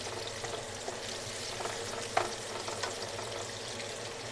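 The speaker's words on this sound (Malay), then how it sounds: "Ini dah aku tumis bawang, 1 biji bawang besar" One large onion and four garlic cloves sauté in a pan, a soft, steady sizzle with faint stirring scrapes and one brief clink midway.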